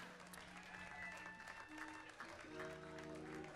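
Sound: audience applause at blues festival

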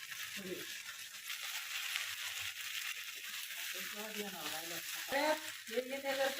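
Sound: onions frying with cornflour for paneer chilli

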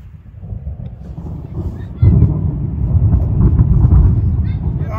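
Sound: thunder rumbling during a lightning storm

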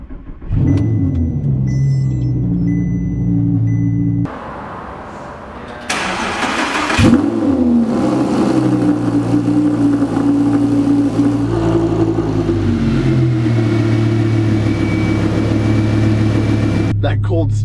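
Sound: Audi R8 V10 engine starting

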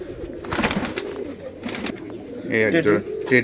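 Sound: Giribaj pigeons cooing at a pigeon farm

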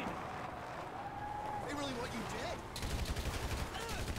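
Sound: gunfight gunfire in video game GTA V

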